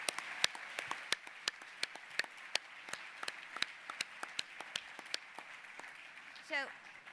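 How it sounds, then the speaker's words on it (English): An audience at a museum opening ceremony applauding the sponsors, a thin run of distinct, evenly spaced claps from a modest crowd in a fairly quiet room, with a short voice near the end. "So a round of applause now for our fabulous sponsors."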